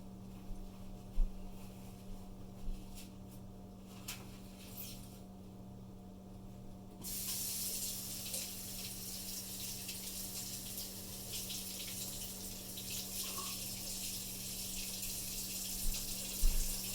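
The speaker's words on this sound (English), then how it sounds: "Bear with me for a minute while I rinse this off." Tap water runs to rinse something while a wild-edible sandwich is made outdoors, first as a few brief splashes and then as a steady close gush for the second half, over a constant low mechanical hum.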